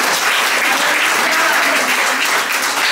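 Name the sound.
congregation applauding loudly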